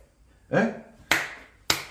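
Three sharp hand claps ring out one by one at uneven intervals, each a crisp close burst with a short decay, beside an electronic organ lesson.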